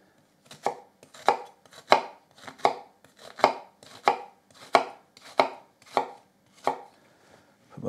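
Knife chopping an onion finely on a cutting board: about a dozen crisp, evenly paced chops, close and clear, with no voices.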